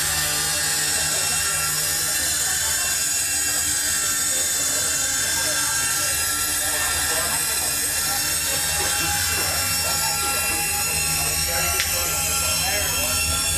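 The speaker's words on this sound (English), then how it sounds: "I was listening to a train harmonize with itself" Train wheels on slow mountain bends ring out in sustained, harmonizing metallic squeals, layered tones holding steady over a continuous rolling rumble, loud and unbroken throughout.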